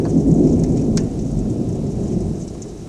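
Summer thunderstorm in Wildomar with steady rain pouring down and a dense rumble of thunder, loud and continuous throughout, easing slightly toward the end.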